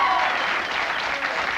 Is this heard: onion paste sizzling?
no